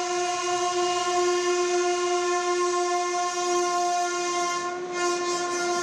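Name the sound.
Oxygen Express train running on Indian Railway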